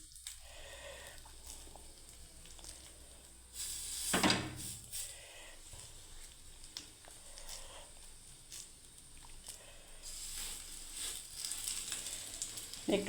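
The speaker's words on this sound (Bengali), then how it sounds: "এবার আমি ওটসগুলোকে আমি ভেজে নেবো বন্ধুরা, বড়ার মতো করে হেলদি" Small fritter-style portions of oats frying in a pan give off a soft, continuous sizzle, with louder crackling bursts around a few seconds in and again toward the end.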